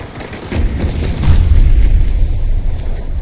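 A grenade goes off in a video game, a loud deep boom that swells and rolls on for a few seconds, with a short pop and some faint rattling near the start.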